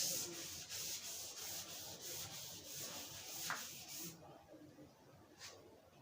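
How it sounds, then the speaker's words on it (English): Writing being rubbed out on a classroom board with a duster: rhythmic, soft scrubbing strokes for about four seconds, then quiet with one last brief swipe, close and without speech. "I may need to rub out a bit of this part"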